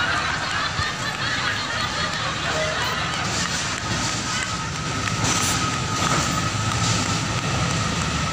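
Small rail lorry wagons hauling rubber latex on a plantation line in Sumatera rumble and clatter steadily along the track, a continuous rolling noise with faint voices in the background.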